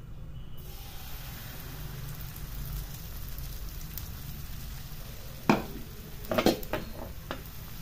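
Besan dhirde batter sizzles on a hot griddle with a steady, soft hiss throughout, joined by a couple of brief utensil clanks near the end.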